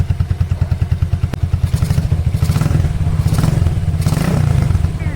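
A Keeway Cafe Racer 152 motorcycle engine idling close by with a rapid, steady thumping pulse and a clattery, noisy cam rattle, revving slightly and evening out after a few seconds.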